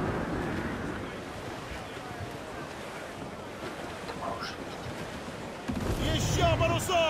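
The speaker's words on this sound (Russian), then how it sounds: "Море разбушевалось!" Stormy open sea in Assassin's Creed IV Black Flag, with a steady roar of wind and crashing waves around a sailing ship, growing louder and rougher near the end while a voice talks over it.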